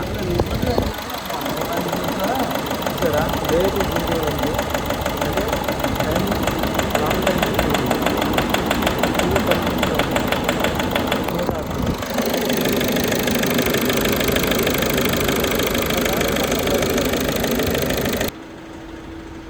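A vehicle engine idles with a steady, rapid knocking rumble, close and loud for most of the clip before cutting off abruptly near the end.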